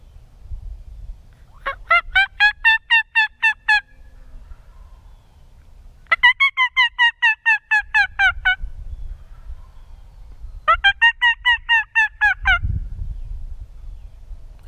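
Wild turkeys in a Kansas public-land field gobble back in three loud, rattling bursts, each about two seconds long and separated by short pauses, over faint low rumbling background.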